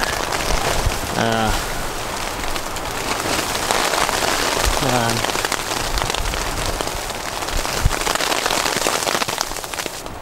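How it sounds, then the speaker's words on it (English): Rain mixed with snow pelts a tent steadily while camping in winter at Glacier Point in Yosemite, making a loud, close, dense patter. Wind gusts run through it, along with a couple of brief voiced sounds. "It's been on and off. The snow / rain, the wind like this."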